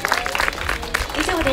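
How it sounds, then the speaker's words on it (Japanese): Crowd applause for motorcycle racers on the podium at a National ST600 class ceremony at Sportsland SUGO, steady clapping mixed with a voice speaking over it through the short burst. "表彰台の選手に毎一度大きな拍手をお願いいたします"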